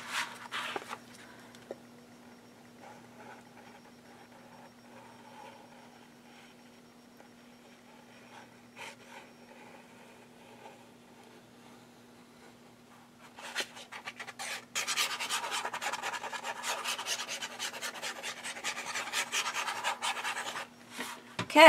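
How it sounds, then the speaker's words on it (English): A noisy bracelet rubbing and scraping as someone works on handmade recipe book pages: faint scattered rustles at first, then a burst of louder, continuous scratchy rubbing over the final several seconds, with no talking. "I'm sorry I have this very noisy bracelet on."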